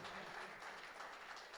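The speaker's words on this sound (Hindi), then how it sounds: "जोरदार तालियां चाहूँगा दोस्तों।" Steady applause from a crowd at an Independence Day (15 August) honouring ceremony, a dense, continuous wash of clapping heard from a distance at low level.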